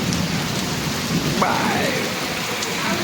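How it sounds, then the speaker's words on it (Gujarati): A heavy downpour falls on waterlogged roads in Laskana, a thick, constant roar of rain close by with a faint distant rumble. "વરસાદ પડે છે ફૂલ."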